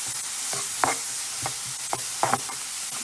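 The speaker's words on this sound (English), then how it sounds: "I'm gonna mix my onions and garlic. I'm gonna make it nice and translucent" Onions and garlic sizzle steadily in olive oil in a pan, with several close spatula scrapes and clicks spaced through the stirring.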